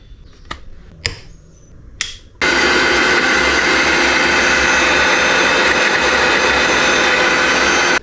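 A mixer grinder blending 200 ml of milk with cut pieces starts abruptly after a few sharp lid clicks, then roars with a loud, steady, whining motor drone that continues unbroken.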